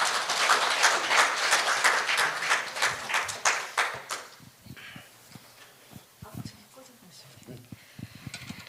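Audience applause breaks out after a lecture at a Korean ESG forum, loud steady clapping for about four seconds before thinning to scattered claps and faint room noise.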